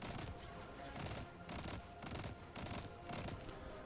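Rapid gunfire bursts from the video game Destiny, played during a solo Nightfall strike against the Arms Dealer boss, arrive in repeated loud volleys with short gaps between them and no voices over them.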